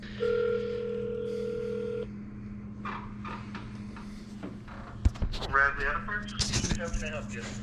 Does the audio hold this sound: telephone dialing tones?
yes